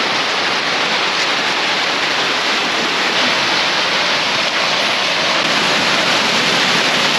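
A small waterfall in North Cheyenne Canyon pours in a loud, constant, hissing rush of falling water, steady and close with no pauses.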